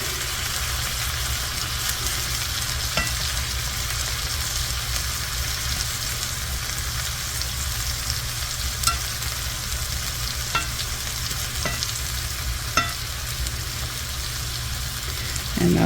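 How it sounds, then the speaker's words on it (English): Tomatoes and onions sizzling in a pan, turned with a meat turner: a constant, even frying hiss with occasional faint clicks of the spatula, no voices. "I'm using my meat turner to flip the tomatoes."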